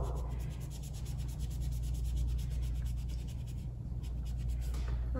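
Sponge eraser rubbing back and forth along a billiard cue shaft, a continuous close scrubbing and rubbing texture with a low steady hum beneath it.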